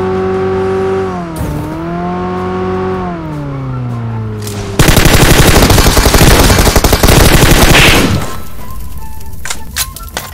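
Gunfire in the mobile shooter PUBG Mobile: after a few seconds of droning engine-like hum, a loud, rapid volley of sharp shots crackles for about three seconds, then a few scattered clicks and pops follow.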